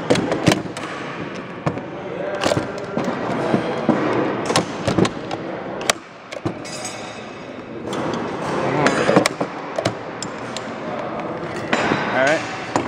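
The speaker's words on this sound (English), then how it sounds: "Charge the weapon." A rifle's bolt is worked during a functions check, with metallic clacks, clicks and a sharp snap of the charging action standing out against background noise and handling sounds.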